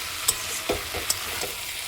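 Pre-fried cauliflower stir-fried again in a pan for a vegetarian curry, producing a soft steady sizzle broken by a few sharp utensil clinks and scraping strokes, with no voices.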